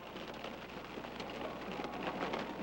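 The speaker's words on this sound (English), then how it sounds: "Let's get out of this rain." Steady rain falls during a tornado storm chase, a faint, even hiss with soft patter, heard alone.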